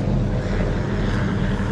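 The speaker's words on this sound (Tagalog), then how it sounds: "Dalawa helicopter man sa atin." A helicopter, one of two flying overhead, makes a loud, steady drone with a low throbbing rumble that holds for the whole moment, with no voices over it.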